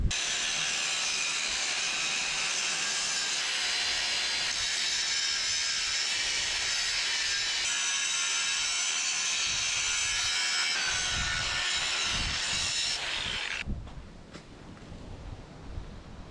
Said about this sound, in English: I'm gonna grind that off and then put some weld on it.